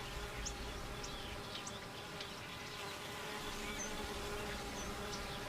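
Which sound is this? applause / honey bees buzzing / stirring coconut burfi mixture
honey bees buzzing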